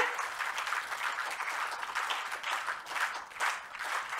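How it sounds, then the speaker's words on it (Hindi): An outdoor festival crowd claps together in a steady, pulsing rhythm, loud and continuous throughout with little talk. "तो एक बार फिर से वही वाली प्यारी प्यारी तालियां रिदम में"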